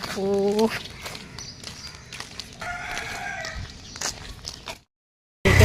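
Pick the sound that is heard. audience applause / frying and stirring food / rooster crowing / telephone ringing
rooster crowing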